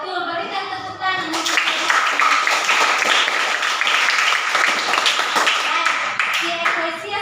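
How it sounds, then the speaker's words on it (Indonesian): A classroom of students claps together in sustained group applause after a teacher's prompt, dense and steady for several seconds, with a voice faintly audible at the start and end. "Berikan tepuk tangan."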